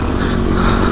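A motorcycle engine revs hard and steadily at close range as it pushes through water, a brief loud burst of engine noise.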